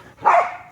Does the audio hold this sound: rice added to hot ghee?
no